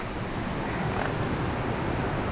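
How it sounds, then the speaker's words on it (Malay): Rushing water of a nearby waterfall roars in a dense, steady wash, loud and close. "Tapi dah dengar punya air terjun dah dekat dah"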